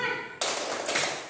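Classroom of schoolchildren doing a rhythmic group clap chant, a burst of sharp claps that starts suddenly and continues densely, with young voices mixed in.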